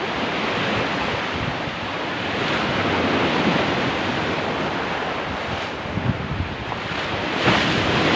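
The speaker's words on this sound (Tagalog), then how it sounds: "So, malakas talaga ang alon dito." Strong ocean waves crash at Kulasi Beach near Butas Butas cave in Mauban, Quezon, a loud continuous surge of surf with heavy wind buffeting the microphone and swells peaking toward the end.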